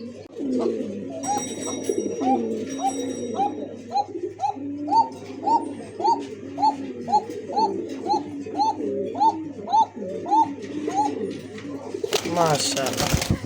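Pigeons at a bird market coo in a steady, repeating series of soft, throaty calls, fairly close and continuous, with someone speaking over them and a brief burst of noise at the end.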